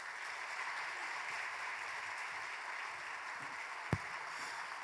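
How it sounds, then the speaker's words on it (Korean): A church congregation applauds together to welcome a missionary, steady clapping filling the room for several seconds before one sharp knock near the end. "우리 큰 박수로 맞이하도록 하겠습니다"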